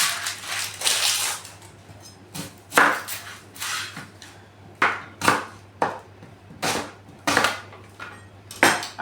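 A knife chops through an onion on a cutting board in a series of sharp, separate strikes, some landing in quick pairs, close and clear against a quiet kitchen hum.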